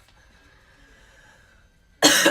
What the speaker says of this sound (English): sometimes it makes me cough.